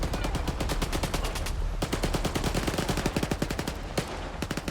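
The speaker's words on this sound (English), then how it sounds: "Oh, gunfire." Rapid automatic gunfire in a combat video game, dense loud bursts of closely spaced shots rattling almost continuously, with a brief gap and then another volley.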